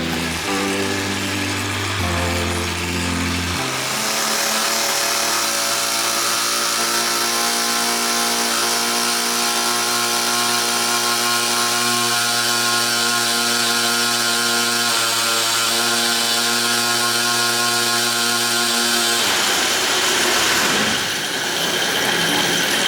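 A small 50cc two-stroke drift kart engine on a dyno revs hard and steady at high pitch, loud and close, holding a sustained buzzing whine before dropping off near the end.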